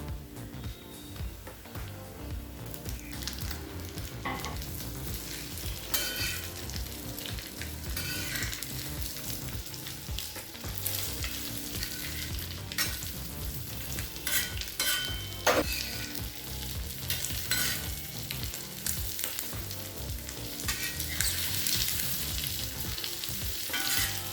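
Boiled eggs fry in a thick pepper masala for an egg pepper fry, giving a dense, loud, continuous crackling sizzle with scattered pops and utensil scrapes throughout, under faint background music.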